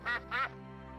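Ducks quacking: two short, nasal quacks in quick succession, close and clear, followed by quiet.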